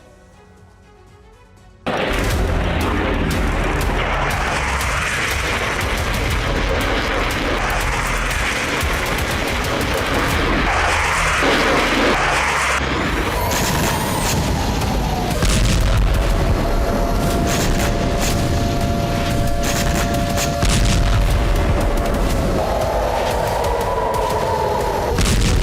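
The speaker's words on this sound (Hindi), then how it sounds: "ईरान के आसमान में रह रहकर धमाकों की रोशनी हो रही थी।" Loud, dense booms and rumbling blasts of explosions and artillery fire during an Israeli strike on Iran, beginning abruptly after near silence and continuing as a sustained, rolling barrage with sharp repeated cracks.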